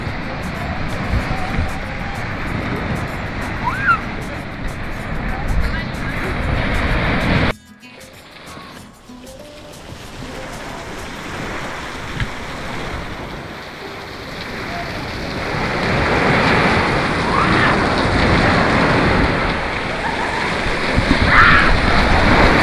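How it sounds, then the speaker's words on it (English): Surf rolls onto a black sand beach on Madeira, a steady close wash of breaking water that drops away briefly, then builds again into louder, fuller wave noise. "this is also a black sand beach as well"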